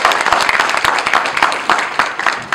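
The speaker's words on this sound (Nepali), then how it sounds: "एकचोटि उहाँलाई जोरदार तालीले उहाँलाई गर्नुपर्छ" Audience applause at a Nepali Congress community event, a dense, steady wash of many hands clapping throughout, fairly loud and close, with no clear voices over it.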